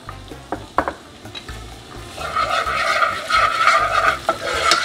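Onions sizzle and crackle in a pan with canned sardines for a tomato-sauce dish, starting with a few spoon taps and scrapes, then a steady close frying hiss that swells and holds to the end.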